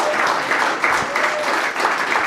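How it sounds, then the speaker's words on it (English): A short burst of audience applause at a startup demo day as the jury leaves the room, with steady dense clapping at moderate loudness and no talking. "So please give a big applause to the jury going out and"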